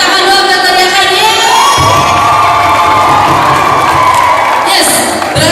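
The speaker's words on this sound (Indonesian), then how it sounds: "Oke, kasih tepuk tangan dulu buat teriakan ya." A seminar audience of students in a lecture hall shouts and cheers loudly together, a sustained dense crowd roar with rising voices and whoops, fading slightly at the end.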